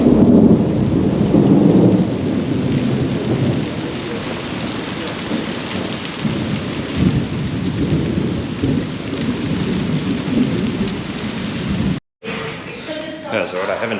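Heavy rain pours down at a safari lodge on the Manyoni Private Game Reserve, a loud, dense hiss with rumbles of thunder, continuing under a brief break near the end.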